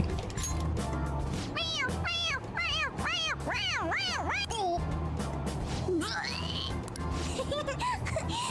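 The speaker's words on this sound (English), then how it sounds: "It meows when you press on its head." A toy cat in Persona 5 Royal gives a run of repeated rising-and-falling meows when its head is pressed, each cry clear and close over a constant game music and ambience bed, with a voice briefly mixed in.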